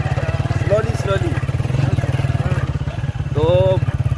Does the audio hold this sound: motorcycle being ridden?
yes